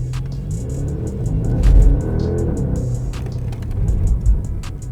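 A Porsche Panamera Turbo S accelerating hard, its engine swelling into a loud mid-pitched roar with low rumble, then easing and building again as the car pulls away close by.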